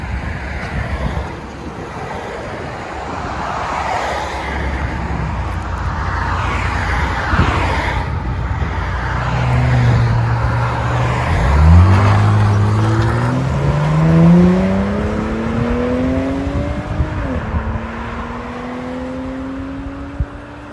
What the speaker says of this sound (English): Jeep Grand Cherokee Trackhawk.